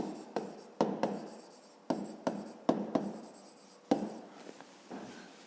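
Pen scratching numbers onto paper during a fifth-grade math exercise, a string of short, close strokes and taps in an uneven rhythm, with no voices.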